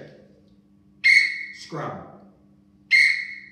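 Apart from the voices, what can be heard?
referee whistle blown in the same monotone each time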